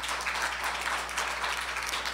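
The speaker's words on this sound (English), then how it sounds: "I think we should give a round of applause for" A conference audience applauds at an academic forum, a steady, moderately quiet patter of many hands clapping throughout, with no voices on top.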